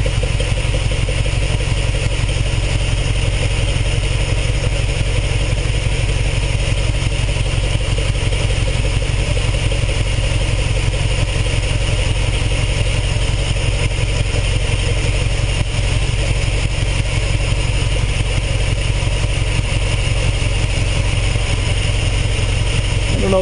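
A Ferrari 308 GTS engine runs steadily with no change while its carburetors are synchronized, a loud continuous close-up rumble with a broad mechanical hiss.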